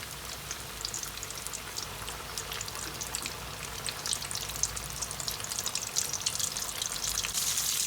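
Chicken wings crackle and sizzle in hot oil, a dense, steady bubbling hiss that grows a little louder as more pieces go in, close up with no speech.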